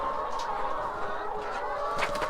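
Egg-laying hens cluck steadily on a farm as they are moved between pens, a dense, continuous chorus of overlapping clucks with brief louder calls near the end.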